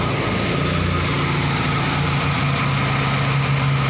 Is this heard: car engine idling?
yes